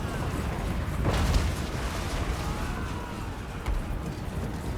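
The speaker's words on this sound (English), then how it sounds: "Concentrated artillery battery is doing so much." Concentrated artillery battery firing in a Total War: Warhammer 2 pike-and-shot mountain battle, deep booming blasts rolling out at a distance, a heavier thump near the start and another later over a continuous rumble of battle.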